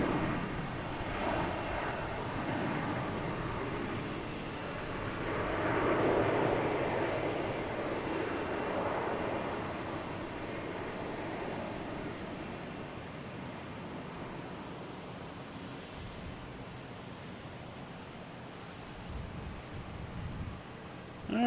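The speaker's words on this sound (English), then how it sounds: "Lufthansa A340 coming in from Frankfurt." A Lufthansa Airbus A340 coming in to land from Frankfurt at Boston Logan sends a distant, muted jet rumble that swells around the middle and then fades to a soft steady wash, with no talking.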